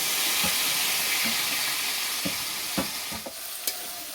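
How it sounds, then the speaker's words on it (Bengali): A carrot and semolina mixture goes into hot tempering with whole mustard seeds in a pan and is stirred, giving a loud continuous sizzle with several scraping spoon strokes. "এবার গাজর আর সুজি মিশ্রণটা দিয়ে দেব।"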